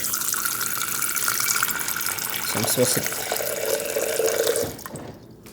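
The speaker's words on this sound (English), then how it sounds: "step 1 is to fill this up with water and let it soak" Tap water runs and splashes into a container to soak sprouting seeds, a steady nearby gush that stops shortly before the end.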